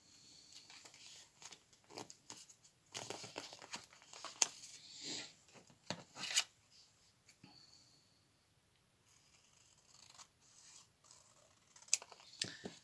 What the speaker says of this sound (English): but first let's trim the edge a little bit